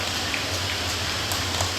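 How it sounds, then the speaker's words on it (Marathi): Heavy rain falls steadily during an outdoor public gathering, a loud uniform hiss with faint scattered drops and a low hum beneath, no voices heard. "जसं जसं बोलायलोय तसं तसं पाऊस वाढायला"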